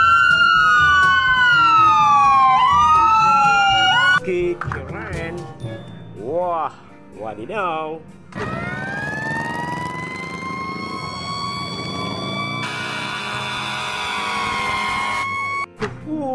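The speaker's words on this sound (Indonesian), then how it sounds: "Wah di sini ada mobil ambulans." Electronic toy ambulance sirens wail and warble in several rising and falling patterns, loud and close, with a person talking excitedly over them.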